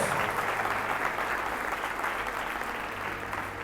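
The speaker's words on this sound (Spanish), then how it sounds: "Dale un fuerte aplauso" A church congregation breaks into loud, dense applause, a steady sustained wash of clapping close by with little speech.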